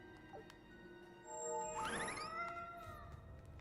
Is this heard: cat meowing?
yes